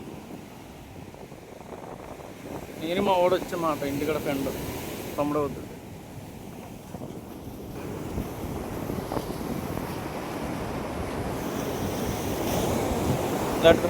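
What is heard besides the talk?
strong wind at sea while fishing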